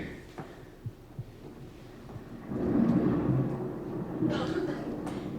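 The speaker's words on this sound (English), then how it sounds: "You're not scared of a little thunderstorm, are you?" A thunderstorm rumbles outdoors, with distant thunder building into a long, deep roll midway before fading, preceded by a few soft thumps.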